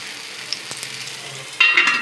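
Handvo batter frying in oil inside a mug, a faint steady sizzle with a brief tap, then a louder burst of crackling as more oil is added near the end.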